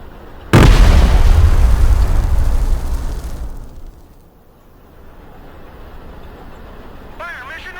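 Laser-guided fire mission explosions from the Broken Arrow video game: a sudden loud boom erupts and rolls on for a few seconds before fading to a low rumble, with a voice entering at the end.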